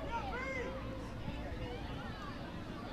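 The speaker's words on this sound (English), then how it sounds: "You can hear the crowd here at Southfield" A soccer crowd murmurs and shouts at Southfield stadium during a BYU versus Missouri match, a distant, diffuse hubbub with scattered voices and whistles rising and falling under the open air.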